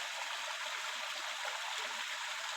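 A steady, close stream rushes beside a small waterfall at a farm picnic spot, with a constant bright splashing hiss and no voices.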